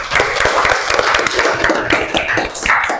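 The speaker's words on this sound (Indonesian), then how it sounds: "tepuk tangan untuk kita semua" An eighth-grade class clapping together after hearing their results, a dense rattle of many hands sustained for several seconds, loud and close in a busy room.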